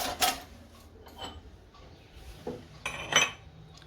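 Washed dishes and utensils from the night before being put away at home, several scattered metallic clinks and clatters of pots and cutlery, fairly quiet with pauses between, no talk.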